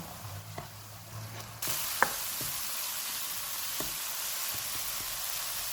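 Red chilli powder and Kashmiri chilli powder frying in oil for a tomato chicken, with a soft steady sizzle and a few light spatula taps and stirs; quiet and close, no talking.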